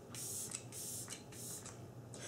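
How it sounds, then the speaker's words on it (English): Setting spray misted onto a face in a makeup routine, heard as four separate airy hissing bursts, each about half a second, in an even rhythm, close and fairly soft, with no talking. "At this point, I'm going to throw on some setting spray."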